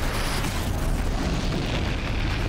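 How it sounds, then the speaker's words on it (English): A loud, sustained explosion booms in the video game Horizon Zero Dawn: The Frozen Wilds, a dense rumbling roar that fills the whole moment without letup. "that explosion is awesome"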